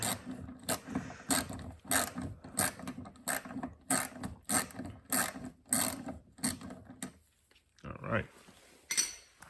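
Close ratchet with a 10 mm socket loosening a bolt while installing a cold air intake on a 2023 Toyota GR86: a steady series of crisp clicking strokes with short gaps between them, ending in a few lighter handling sounds.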